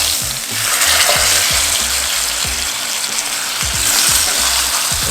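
Steak sears in a pan with a loud, continuous sizzle and a few soft knocks as tongs flip it over, no voices.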